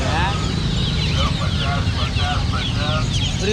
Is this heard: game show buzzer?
no